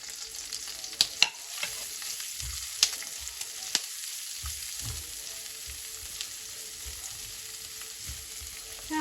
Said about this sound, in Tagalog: At akin na pong gigisa ang bawang at sibuyas.